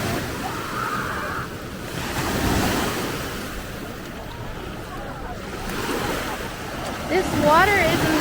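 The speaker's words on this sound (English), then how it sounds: "this is Clearwater Beach" Surf rolls and breaks on the white sand of Clearwater Beach, Florida, with steady wind buffeting the microphone, while people talk nearby and a voice rises near the end.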